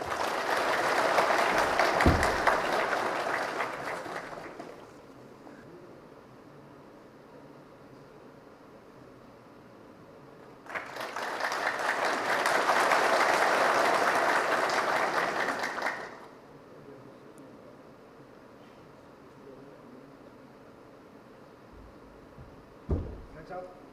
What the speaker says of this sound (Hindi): दर्शक गणों से निवेदन है कि वो अपनी तालियों के साथ रिटायर होने वाले सैनिकों का स्वागत करें।